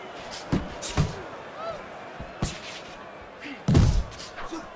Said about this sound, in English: That counter punch landed with some success.